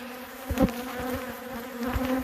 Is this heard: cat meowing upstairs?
no